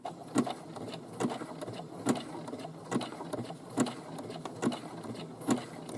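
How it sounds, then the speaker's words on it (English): A sewing machine runs a zigzag stitch on a seam, a close mechanical whirr with regular rhythmic clicks repeating about every second, steady and unaccompanied by talk. "I'm going to drop my needle down, and I'm going to start zigzagging."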